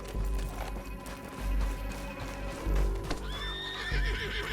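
A horse in Red Dead Redemption 2 gallops with heavy rhythmic hoofbeats, then gives a loud, shrill whinny near the end.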